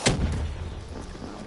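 A bomb explosion in Call of Duty Black Ops 3 Zombies lands as one loud, booming blast at the start, then rumbles and fades out over the next second.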